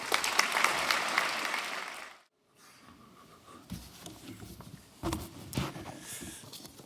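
Audience at a university graduation ceremony applauds to welcome a guest speaker, with a burst of clapping that stops abruptly, then scattered claps and shuffling footsteps follow.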